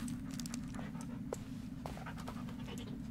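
A dog in the video game Blair Witch pants steadily at close range, a continuous breathy rhythm running through the whole stretch with a few faint clicks and scuffs on top.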